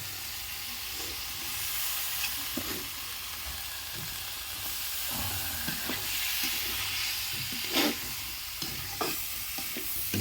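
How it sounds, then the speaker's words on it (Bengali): Small potatoes and bitter gourd fry together for a bhaji, giving a dense, constant hiss of frying oil with occasional scrapes and knocks of a stirring spoon, close up and with no voices. "পলি আজকে ছোট আলু আর করলা দিয়ে ভাজি করতেছে।"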